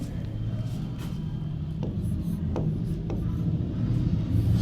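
Marker or chalk strokes on a classroom board during a geography lesson, a few short scratchy marks spaced about a second apart over a steady low room rumble and hum.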